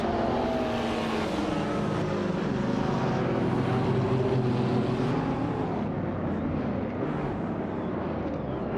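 Video-game race cars, led by a Lamborghini Asterion from pole position, launching off the start line together in a loud, dense, steady engine roar that holds throughout with no speech.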